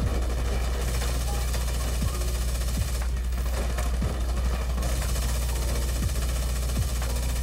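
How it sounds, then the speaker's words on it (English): Shotgun blasts from The Division 2, a few sharp booming shots spread through a dense, steady wash of game noise with a voice talking over it. "Yeah, that shotgun hurts."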